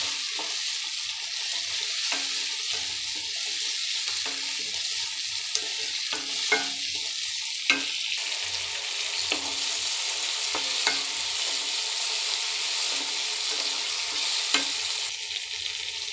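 Finely cut tomato sizzles in a pan for a bitter gourd fry, with a steady, loud frying hiss throughout and occasional sharp scrapes as it is mixed. No voices.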